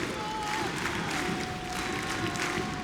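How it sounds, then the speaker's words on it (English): A French crowd in Paris gives a massive standing ovation at the 2017 EU LCS Summer Final between G2 Esports and Misfits, a steady roar of applause and cheering from a packed arena with a faint tone running through it. "They, of course, are now giving them a massive standing ovation."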